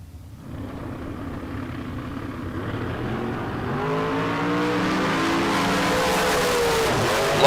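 Dragsters in a bracket drag race launch together, engine roar building from near quiet to a loud sustained howl with rising tones over several seconds.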